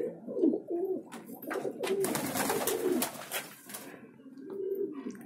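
Desi pigeons in Patna, Bihar, coo repeatedly in soft, rolling phrases. The calls are fairly faint, with light rustling and background noise and no voices.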